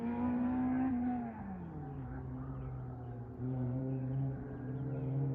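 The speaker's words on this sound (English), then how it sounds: "I've been hearing the engines for quite a while now." Car engines at a distant racetrack drone steadily, pitch sliding down then rising again as they rev, a faint continuous hum.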